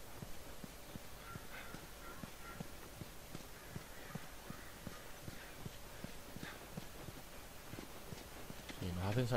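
Horse hooves clip-clop in a steady, even walking rhythm in The Last of Us, moderately close and continuing throughout, with faint game ambience behind and a louder noise at the very end.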